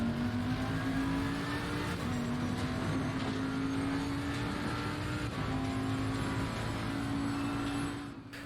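Race cars in a racing video game at the Zolder circuit, including a Ferrari, whine loudly with a steady high engine tone that shifts pitch at gear changes, fading slightly at the very end.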